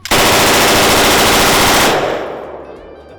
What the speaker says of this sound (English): that is obviously the belt-fed configuration of the Stoner 63